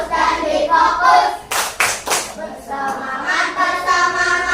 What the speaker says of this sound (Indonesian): Coba biar semangat kita tepuk janji fokus